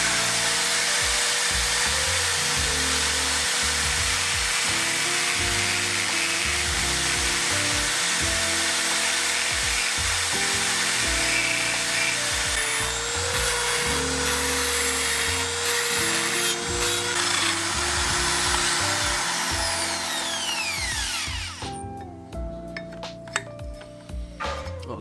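A power tool grinds steadily on a screw for a Kawasaki Barako 175 scrambler build, giving a continuous close, loud whine with small shifts in pitch before it winds down near the end.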